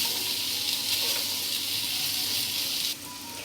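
Cabbage with salt and pepper frying in a pan for spring roll filling, a steady broadband sizzle holding throughout and dropping slightly near the end, no voices.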